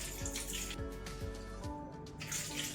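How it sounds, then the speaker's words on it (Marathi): Water running and splashing as it is drained off poha flakes soaking in a bowl, a close, steady gurgling trickle that briefly thins out before flowing again. "पाणी काढून टाकूया।"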